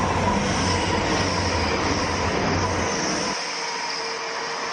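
An Adelante passenger train rumbles past with a steady, loud roar that thins out near the end as it moves away.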